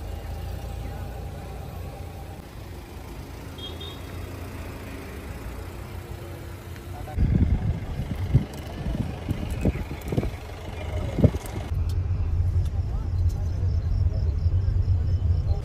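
An auto rickshaw engine rumbles steadily during a ride at night, with low engine drone and occasional clunks and bumps, and quieter background noise before the vehicle gets going.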